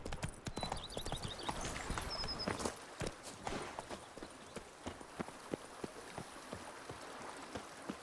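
Roach the horse clip-clops along in The Witcher game, a steady run of hoof strikes that starts busy and loud over layered background sound, then continues as sparser, evenly spaced steps.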